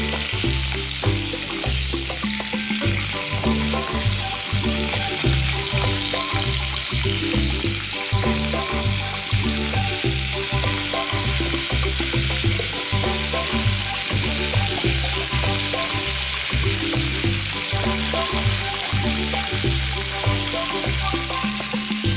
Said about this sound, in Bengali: একটু নুন হলুদ দিয়ে ভেজে নেব